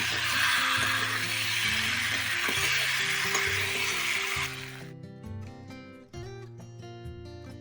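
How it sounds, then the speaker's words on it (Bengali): Fried chicken pieces are stir-fried in spices for a chicken and potato curry, sizzling steadily and loudly in the pan before the frying cuts off and only background music remains. "চিকেনটা দেওয়ার পরে খুব ভালো করে কষিয়ে নিতে হবে।"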